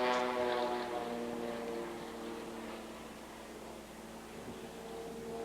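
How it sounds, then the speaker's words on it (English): A propeller aerobatic airplane flown solo by Jim Franklin at an airshow in Abbotsford, rolling over onto its back; a steady, fairly loud engine drone with a strong harmonic whine that eases off slightly through the manoeuvre. "Rolls that big airplane over on its back"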